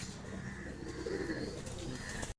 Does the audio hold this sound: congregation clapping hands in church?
no